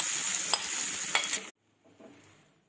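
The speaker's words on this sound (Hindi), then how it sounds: "अब हम इसमें घिसा हुआ मकई डालेंगे।" Grated corn sizzling loudly in a pan over a low flame while being stirred, with a couple of scraping clinks, then the frying cuts out abruptly and only faint kitchen sounds remain.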